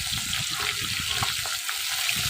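Puti fish fry in hot oil with a steady, close sizzle and crackle, and soft spattering pops break through now and then.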